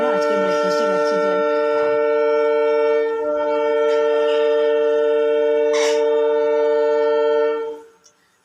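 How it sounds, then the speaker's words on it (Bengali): A train at a nearby railway station sounds a long, loud, sustained horn lasting several seconds, with brief clanks underneath, before it fades out. "পাশে স্টেশন, রেল স্টেশনের ট্রেনের শব্দ শোনা যায়, তার জন্য কথা বলা যায় না।"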